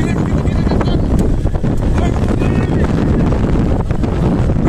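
Strong wind buffets the microphone with a constant heavy roar aboard a fishing boat at sea during rain, while water sloshes and the hull creaks underneath.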